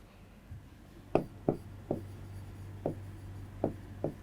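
Chalk or marker writes on a classroom board in a quiet room. There are about seven short, distinct tapping strokes at an uneven pace, close and fairly soft.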